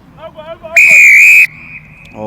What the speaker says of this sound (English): another loud blow on the referee's whistle